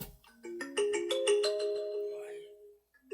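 A mobile phone ringtone plays a rising, stepped electronic melody of bright tones during a lecture, ringing clearly for a few seconds, then a short note returns after a brief gap.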